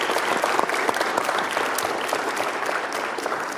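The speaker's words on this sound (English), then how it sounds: "Can we get a round of applause for our excellent guest speakers today?" Conference attendees applaud their guest speakers with steady, dense clapping that fills the whole stretch at an even, moderately loud level.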